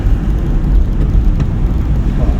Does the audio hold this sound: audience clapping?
no